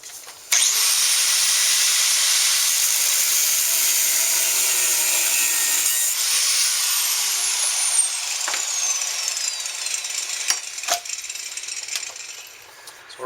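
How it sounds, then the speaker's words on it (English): A power tool cuts through a rusted heat exchanger exhaust pipe, a loud sustained high whine that shifts pitch midway, then winds down into scattered clinks and knocks. "We're going to cut this pipe here. It's rusted, so we're going to pull this off."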